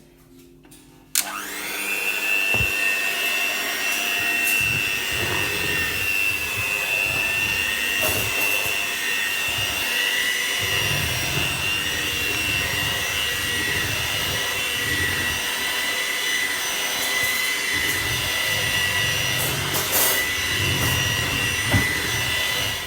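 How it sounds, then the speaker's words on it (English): An electric hand mixer beats three-ingredient biscuit dough with a steady, loud whirring drone that starts abruptly after a click and holds without pause, with faint scraping of beaters against the bowl. "you're gonna beat it again with your hand whisk or hand mixer"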